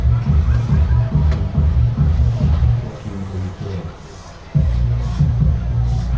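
Crowd hubbub fills the stands at a small-school high school football game in a stadium, a steady murmur of many voices with a brief dip partway through.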